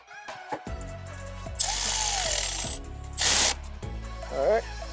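A power tool tightens the provided intake clamps on a 3-inch intake install for a VR30DDTT engine in a Nissan Z or Q50/Q60. There are two loud close bursts, a longer one followed by a short one, with a brief later whir.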